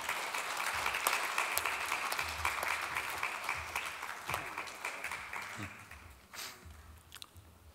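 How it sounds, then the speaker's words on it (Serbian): Audience applause for a poet at an evening of bohemian poetry and music, a steady wash of clapping hands that runs the whole stretch and thins slightly toward the end, with faint crowd murmur beneath. "Veroljub Košinović, molim jedan aplauz."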